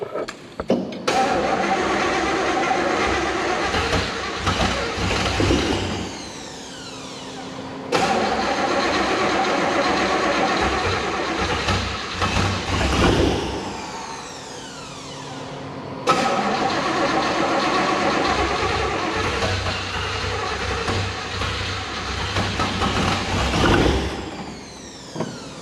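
A flooded 383 stroker V8 in a Chevrolet Nova cranks and catches in three long runs, loud and close, each burst rumbling unevenly before dropping off, with brief pauses between the cranking attempts.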